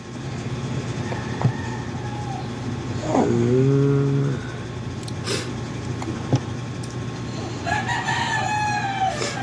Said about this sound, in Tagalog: Tumitilaok na ang manok.